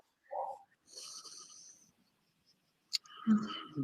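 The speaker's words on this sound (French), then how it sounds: "Deep breath. Profonde respiration." A person takes a slow, deep breath, the soft airy inhale and exhale faint and close in an otherwise quiet space.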